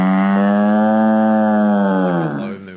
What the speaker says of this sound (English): And here's a cow.